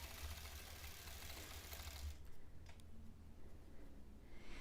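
Sewing machine stitching during free motion quilting of a paisley design, a close, steady mechanical whir for about two seconds that stops abruptly, followed by quiet room noise with faint scattered clicks.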